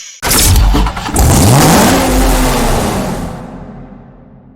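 Chevrolet Corvette Z06 in the racing game Need for Speed Hot Pursuit: the engine fires up loudly, revs hard with a rising whine, then settles and fades away, heard alone.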